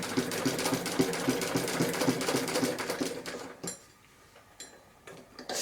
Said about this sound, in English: I sort of come up and put it in reverse, reverse it, release it, forward again